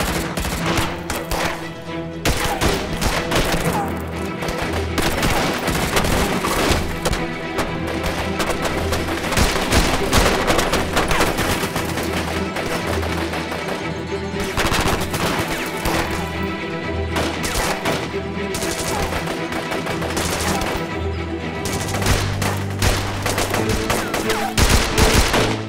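Sustained heavy gunfire, rapid bursts and volleys of shots rattling continuously and loudly, with occasional booms layered in a dense, chaotic battle din.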